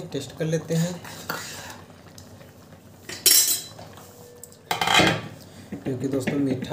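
A spoon clatters and scrapes against a metal pot while stirring kheer, with loud clinks and rubbing scrapes in bursts and someone talking between them.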